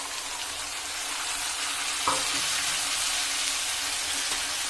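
Potatoes and peanuts sizzle steadily in hot oil in a roasting pan for a bitter gourd gravy, a continuous hiss broken once by a single soft clunk.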